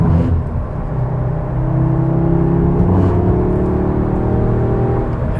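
A 2022 Audi S3 accelerating on a road, its exhaust giving a steady, strong drone that climbs in pitch as revs rise, heard from inside the cabin with no talking.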